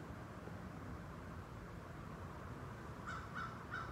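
Crows cawing in a neighbourhood, a quick cluster of three harsh calls near the end, faint and somewhat distant over steady background hiss.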